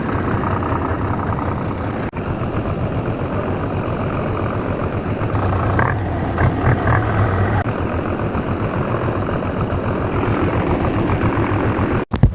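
A tractor engine pulling bore pipe from a deep well runs steadily at a loud, even drone, with faint clanks and rattles of pipe work over it.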